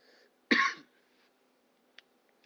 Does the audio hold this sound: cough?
yes